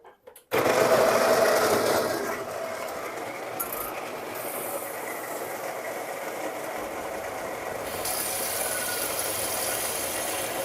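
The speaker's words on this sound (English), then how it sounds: "put the coffee into the grinder. And while that's grinding" A home coffee grinder grinds coffee beans, starting loud and close with a harsh whirring buzz that settles into a steady, slightly lower grinding drone for the rest of the span.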